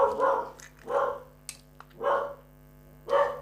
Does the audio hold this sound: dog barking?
yes